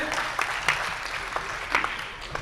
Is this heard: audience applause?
yes